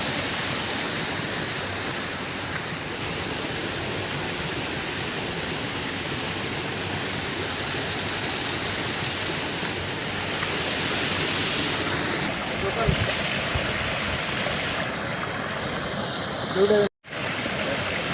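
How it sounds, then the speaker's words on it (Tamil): Water cascading down an outdoor waterfall-like feature on a Singapore tour, a steady broadband rush that holds constant for the whole stretch, fairly loud and close, with a brief drop near the end. "அருவி மாதிரி தண்ணி மேலேருந்து வந்து இந்த பக்கம் போகிறீங்க."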